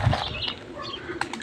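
A young pigeon taking off on its first flights, giving a brief burst of close wing flaps at the start followed by lighter fluttering and faint chirps, with no talking.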